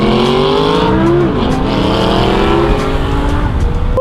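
A Lamborghini Huracan engine drones loudly and steadily, its pitch rising and falling as the car accelerates and shifts, recorded close from inside or on board the car with no one talking.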